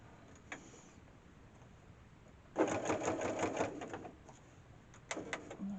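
A sewing machine stitches quilt binding in one steady burst of rapid, close needle strokes lasting about a second and a half, then a brief second run, with quiet pauses between.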